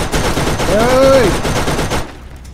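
Rapid turret gunfire in Borderlands, a loud continuous stream of closely spaced shots lasting about two seconds, with a tonal game sound rising and falling over it before the firing stops.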